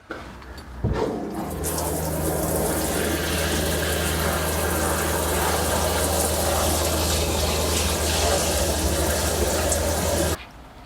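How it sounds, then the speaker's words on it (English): Water runs from a shower in a Class B RV down into the shower drain, a loud steady rushing spray that starts abruptly and holds for about nine seconds before cutting off, with a pump hum beneath. "I'll just open up the shower here a little bit, and we'll again get some water flowing through down into the shower drain"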